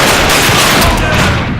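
Dense, loud gunfire from shotguns in the video game The Darkness II, blasts blurring into a continuous broadband barrage across the whole moment with no pauses.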